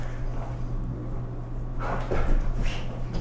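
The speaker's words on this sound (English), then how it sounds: "My dog's going crazy." A dog barks and whimpers in short, excited bursts near the end, fairly close, over a steady low electrical hum, with no talking.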